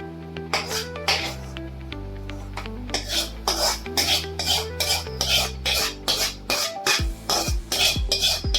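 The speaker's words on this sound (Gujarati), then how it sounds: "હવે આ ઘી અને ગોળને મિક્સ કરી દેશે." Ghee and jaggery being mixed in a pot, with repeated rasping, scraping strokes of the spoon against the metal, close and steady, over a constant bed of background music.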